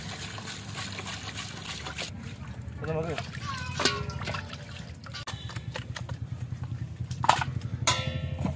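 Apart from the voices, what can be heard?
pouring water to wash chicken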